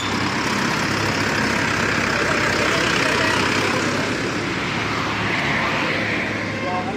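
A Mahindra 575 DI tractor engine idles at a steady low rumble, loud and close, with a broad constant roar and no clear changes in pace.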